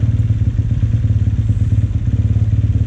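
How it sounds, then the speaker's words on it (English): A dirt bike engine at an indoor motocross track holds a loud, close rev at steady high RPM before a second-gear start, with a throbbing, pulsing exhaust note throughout. "Rev that bike at least half RPM or a little bit more."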